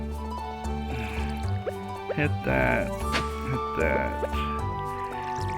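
Watering crops with a watering can in Stardew Valley: soft, repeated splashing pours over steady game music, with a person talking throughout.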